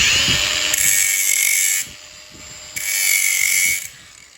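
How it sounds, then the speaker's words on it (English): A power grinder works the edge of a forged steel octagon at a blacksmithing bench. Two loud, high whining grinding passes are separated by a lower motor hum, close up and with no talking. "I'm going to grind the edge of this octagon and the edge of this octagon."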